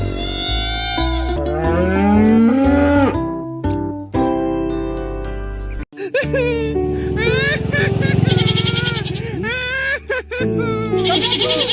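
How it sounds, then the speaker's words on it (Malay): Cattle moo amid a busy cartoon soundtrack of music, effects and animated voices, the lowing brief and partly buried under the other sounds. "Nak tengok lembu sapi."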